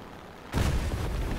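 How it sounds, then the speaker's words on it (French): In the War Thunder video game, an aircraft crashes and explodes with a sudden loud boom that gives way to a sustained roaring rumble. "Ok, il va se cracher lui."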